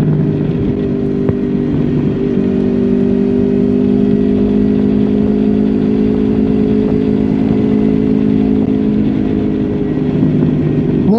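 Honda Crossrunner 800 motorcycle from 2012 cruising at a steady speed over bumpy asphalt, its engine holding a loud, continuous even drone close to the rider with no talking.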